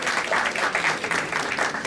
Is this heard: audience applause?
yes